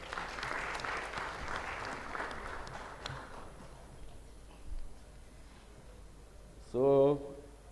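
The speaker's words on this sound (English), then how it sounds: "Let's continue to give him a round of applause." Audience at a technical conference applauding steadily, moderately loud and fading out over several seconds, followed by a brief louder voice near the end.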